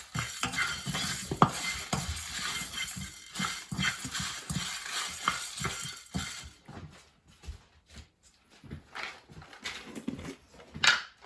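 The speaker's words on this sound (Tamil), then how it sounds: "நல்லா பொன்னிறமாக இதை நல்லா வறுத்து" Cashew nuts roasting in a pan are stirred with a utensil, giving repeated close scraping and clinking strokes over a soft sizzle, irregular in rhythm and moderately quiet.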